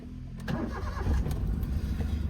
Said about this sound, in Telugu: వెహికల్ ఎటువంటి స్టార్టింగ్ ట్రబుల్ లేదు సార్ మంచి వర్కింగ్లో ఉంది ఇంజన్ వచ్చేసి మంచి కండిషన్లో ఉంది